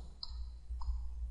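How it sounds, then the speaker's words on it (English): Two light, close key presses on a calculator keypad, spaced about half a second apart, over a quiet low hum. "So on our calculator, if we type in"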